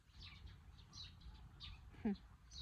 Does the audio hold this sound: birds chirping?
yes